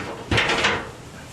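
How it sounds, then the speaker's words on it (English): A door on a smoker swings shut with one solid thump and a short rattle of wood or metal, close by and alone, while quail are cooked Texas style. "Close the door."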